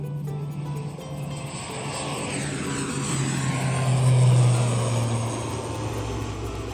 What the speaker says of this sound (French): Et les ATR sont des turbopropulseurs. Donc ce qu'on appelle les avions hélices avec une turbine.